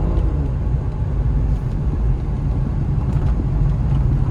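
Aston Martin DB9 driven hard on a twisty road, a loud steady engine and road rumble from inside the car with the drone holding constant throughout.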